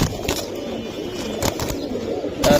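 Giribaz pigeons at a pigeon sale let out low, brief coos close by, with a few soft rustles and thumps from birds moving amid faint background noise.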